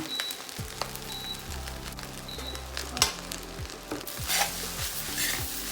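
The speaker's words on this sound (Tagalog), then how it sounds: "Egg fried rice. Uncle Roger's favorite fried rice." Egg fried rice being stir-fried with sesame oil in a hot pan: a steady sizzle with repeated scraping stir strokes and clinks of a utensil, loud and close, no voices.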